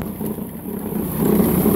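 Small sealed waterproof electric motor turning a number 50 chain and sprocket on a gold trommel, a steady low mechanical hum that grows slightly louder in the last half second.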